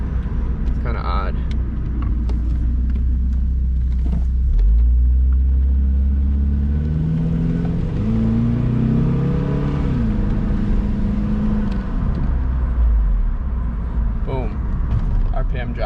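Saab 9-3 engine running with a transmission problem, a steady low rumble that sags as the revs drop, with shifting tonal whine in the middle; a voice talks over it.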